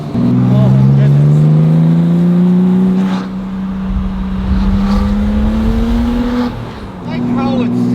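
A custom widebody RWB Porsche 911 with a swapped-in GT2 engine drives on a bumpy road, its exhaust droning loud and close as the revs rise steadily, briefly dip, then climb again, with someone talking over it.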